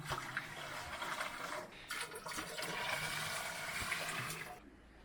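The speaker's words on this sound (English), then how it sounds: "we got out our camping washing machine here, and the girls are loading it up with water from the river" River water gushes and splashes into a portable camping washing machine at a campsite, a loud continuous pour lasting several seconds before cutting off abruptly, with no talking.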